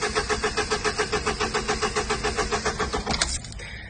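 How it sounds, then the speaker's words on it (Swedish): A car engine cranks but fails to start, the starter churning in a fast, steady rhythmic whirr for about three seconds before cutting off into a quieter hiss, with no voices. "Bilen går inte igång!"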